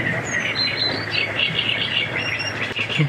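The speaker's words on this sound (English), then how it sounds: "The birds are so loud." Birds call loudly on Crow Island, a dense mix of high chirps, whistles and squawks over steady outdoor background noise, with no talking.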